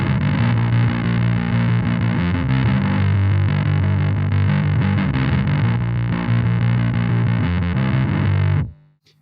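Heavily distorted electric guitar runs a fast, dense riff through a Sarcophagus fuzz pedal, loud and saturated throughout, then cuts off sharply near the end.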